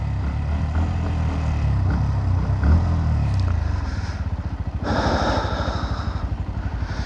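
A motorcycle engine runs during its break-in period, a close, rough idle with a rapid pulsing chug and a brief revving surge partway through, heard alone without talk.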